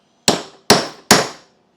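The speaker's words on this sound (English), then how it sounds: "I'll be using my 5/16 center punch just to get that hole started." Hammer strikes a 5/16 center punch to start a hole, three sharp, loud metallic taps spaced about half a second apart with short ringing decays, no talking.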